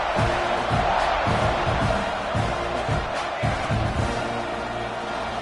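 A stadium crowd in a college football video game, Texas at Texas A&M, roars steadily during a kickoff, a dense continuous cheer with occasional thuds and swells, close and full throughout.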